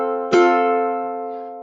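A single ukulele note, F, is plucked sharply and rings alone, sustaining and slowly fading over about a second.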